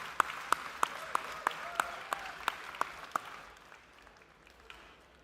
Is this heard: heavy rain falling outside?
no